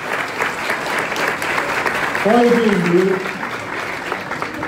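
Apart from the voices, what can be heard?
applause for the children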